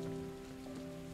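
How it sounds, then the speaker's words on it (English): Rain falls in the video game Hue, a soft steady patter over a sustained low musical drone, faint and brief. "What's outside? Rain?"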